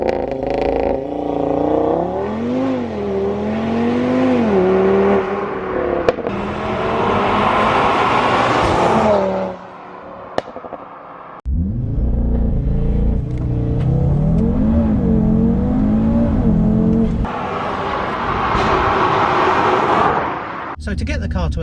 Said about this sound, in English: drop a couple of gears, floor it, that'll then give you like what it's got, and then turbo will kick in